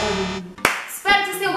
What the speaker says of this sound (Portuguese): eu sei que eu dou um susto em vocês quando eu bato essas palmas